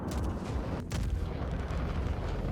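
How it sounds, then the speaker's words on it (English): Torpedoes launched at ships in the space combat game Star Citizen, a dense rumbling roar of launches and booming blasts, loud and continuous, with a brief break near the middle. "Oh, why I launched 3 torpedoes?"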